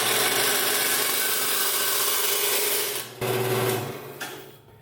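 A power saw in a shop, fitted with a low tooth count wood blade, runs with a steady, dense mechanical whine and buzz, close and loud, dipping briefly near the end before winding down.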